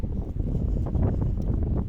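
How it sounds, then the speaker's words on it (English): Steady wind buffets the microphone, a low rumbling roar that holds for a couple of seconds with no voices. "Oh, this is a windy one."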